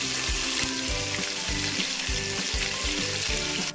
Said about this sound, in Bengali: এবার একটা একটা করে আমি এগুলোকে ফ্রাই করে দেবো